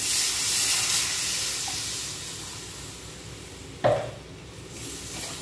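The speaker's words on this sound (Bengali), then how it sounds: "জলটা মশলার সঙ্গে ভালো করে মিশিয়ে নিচ্ছি।" Water poured into a frying Bengali spice masala, cooked down with a pinch of sugar for an egg curry, gives a steady close hiss and sizzle, with one sharp splashy burst partway through as it is stirred.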